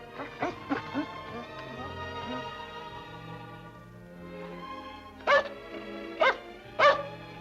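A dog barks three times in short, loud yaps, spaced apart near the end, in a 1948 classic film noir scene, after earlier softer yips and whimpers beneath faint background music.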